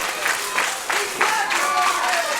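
A crowd at a Community Championship Wrestling match claps along in loose, pulsing bursts to rally a wrestler during a tag match. Crowd noise and voices mix in throughout.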